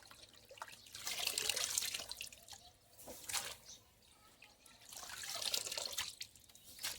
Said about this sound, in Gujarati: હવે આપણે સાદી વેફર આમાં નાખી દઈએ